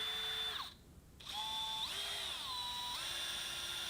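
A power drill running at slow, moderate speed in several steady whining stretches whose pitch shifts as it changes speed, with a brief pause near the start, close and fairly quiet.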